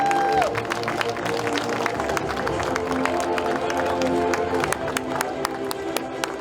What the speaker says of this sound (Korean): 여러분 축하의 박수 부탁드립니다